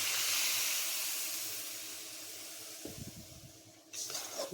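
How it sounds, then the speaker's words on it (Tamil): Water is poured into a hot pan of cooking drumstick vegetable with a loud sizzling hiss that slowly fades, followed by light bubbling and a second burst of sizzle. "இந்த காய் வேகிறதுக்கு கொஞ்சம் தண்ணி ஊற்றுறேன்"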